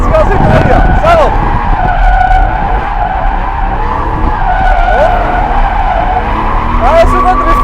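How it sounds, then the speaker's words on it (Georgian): Car drifting with loud, continuous tire squeal and skidding over a droning engine, the screech rising and bending in pitch through repeated slides, with people talking over it. "აი, სუპერ დრიფტია."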